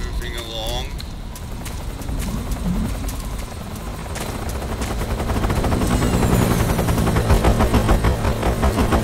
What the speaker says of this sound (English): I'm not playing around with the helicopter right now.